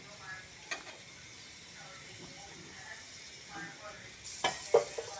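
Beans fry in a little oil in a pan, a faint steady sizzle with a few soft clicks of stirring and a cluster of louder clatters near the end, with a voice speaking quietly underneath.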